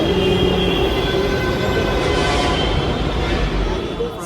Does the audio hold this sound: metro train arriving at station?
yes